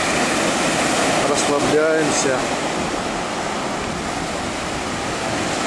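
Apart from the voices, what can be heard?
sea waves crashing in a bay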